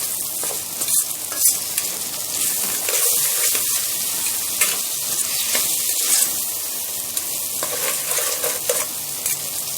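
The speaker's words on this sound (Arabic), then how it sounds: "واكمل التشويح هنا." Tomato paste sizzles and fries in a pot while a spoon stirs it, part of making a noodle and potato soup; a steady close crackle broken by scraping strokes, with no talk.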